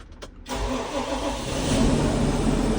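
A Fendt 724 tractor is started with the key: a brief quiet click, then the engine catches after about half a second and settles into a steady, moderately loud idle that swells slightly.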